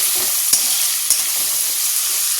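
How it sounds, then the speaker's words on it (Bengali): Potatoes frying in oil left over from frying prawns, a steady close hiss and crackle with two sharp clinks of a utensil against the pan, no voices. "চিংড়ি মাছটা ভেজে নিয়ে এখানে ওই তেলেই আলুটা ভাজতে বসিয়ে দিয়েছি"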